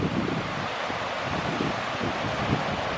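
Strong wind roars steadily across the microphone at Mount Rainier, a loud, constant rushing buffet with no pauses and no voices.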